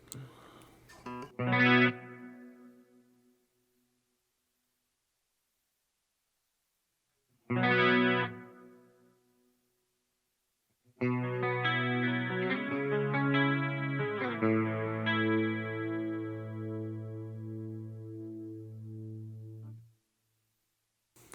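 Clean electric guitar run through a dynamic plate reverb on a Line 6 Helix: two short strummed chords ringing out, then a longer played passage that fades away slowly, smooth and close with no voice.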